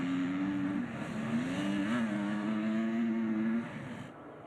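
MX2 motocross bikes head out onto the track for a sighting lap at the MXGP of Germany. Their engines drone steadily at a moderate distance, with pitch rising and shifting as the riders accelerate, then fading toward the end.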